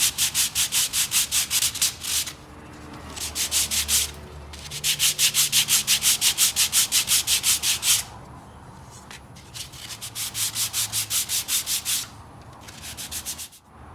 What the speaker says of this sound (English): after I've sanded the grooves